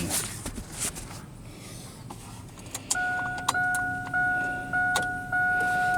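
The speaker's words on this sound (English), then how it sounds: "So let's turn on the ignition." A car's ignition is switched on: small key clicks and jangles, then a run of repeated electronic dashboard chimes with sustained tones, all close by and with no talking.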